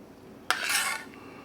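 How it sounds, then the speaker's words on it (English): Spoon scraping a zucchini mixture into buttered tart molds, one brief close metallic scrape and soft wet shuffle, alone without speech. "Now the zucchini mixture goes in, and you just spoon that around."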